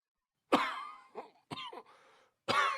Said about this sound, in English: his cough was especially bad today